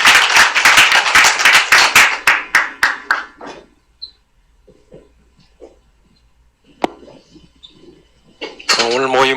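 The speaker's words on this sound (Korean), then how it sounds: "한번 박수 부탁드립니다." Audience applause at a church meeting marking a congregation's 23rd anniversary, a burst of clapping that starts loud and thins out over a few seconds, followed by quiet room noise and a voice starting to speak.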